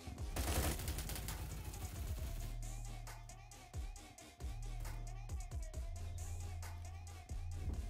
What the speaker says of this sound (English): I hear the Korean shotgun